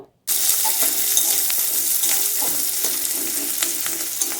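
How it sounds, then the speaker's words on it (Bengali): Chopped onions fry in oil in a pan for a Bengali flat-bean (sheem) curry, giving a steady, close hiss that starts abruptly and holds throughout with faint scraping of stirring. "পেঁয়াজটা দিয়ে নিয়ে কিছুক্ষণ ভেজে নিতে হবে 5 থেকে 7 মিনিট মতো"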